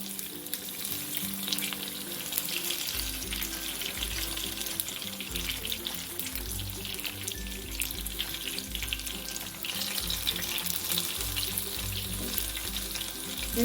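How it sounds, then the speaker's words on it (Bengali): Eggplant slices frying in hot oil, a dense continuous sizzle and bubbling close up, with spatula turning sounds and a low hum running underneath. "বেগুনগুলো আমি একটু উল্টে দেবো"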